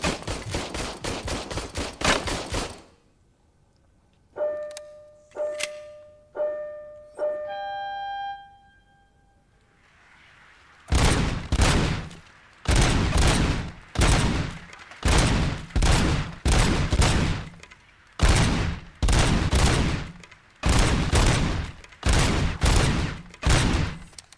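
Firing-range gunfire in the video game RoboCop: Rogue City: loud bursts of automatic fire in sharp, evenly spaced volleys, with a brief pause of ringing electronic beeps between the opening and later bursts.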